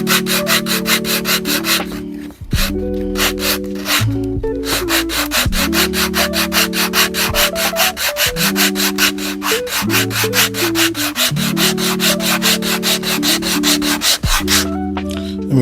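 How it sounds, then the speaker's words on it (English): Steady rhythmic rubbing of a small wooden molding piece against sandpaper on a flat sanding block, back-and-forth strokes repeating loudly and close with brief pauses between passes. "because you're sanding up against a flat surface"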